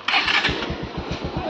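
A motorbike engine starting up on a road in Tripura, India: a brief crank burst, then a loud, close, steady putt-putt idle pulsing rapidly.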